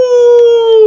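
A man imitates a dog with one sustained, loud, tonal howl-like bark lasting under a second, alone with no other sound.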